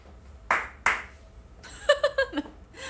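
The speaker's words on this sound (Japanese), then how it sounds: "何の拍手" Two sharp hand claps ring out close and distinct in a quiet room, a short pause between them, followed by a voice talking.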